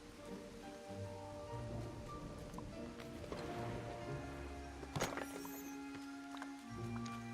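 Rain in the video game Disney Dreamlight Valley, a soft, steady patter with background music tones and a brief sharp knock midway, fairly faint throughout.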